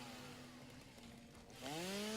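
A video game chainsaw buzzes steadily at low volume, its motor pitch dipping slightly and then revving higher near the end, with no talk.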